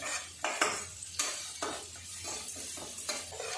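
Onions with ginger frying and being stirred in a pan, a steady sizzle broken by repeated scraping strokes of a spoon against the metal, close and fairly loud, no talking.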